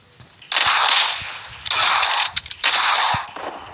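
Three sustained bursts of automatic gunfire from a PUBG match, each roughly a second long with brief gaps between, loud and close, with no talk over them.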